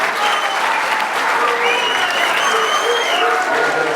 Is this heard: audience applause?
yes